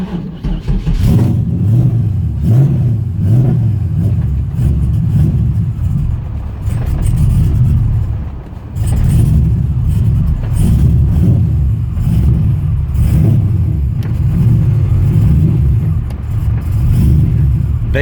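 A V8-swapped Mazda RX-7 runs at a cold-start idle, a loud, steady, close rumble with slight rises and dips in pitch over about eighteen seconds; the base idle is set a little low.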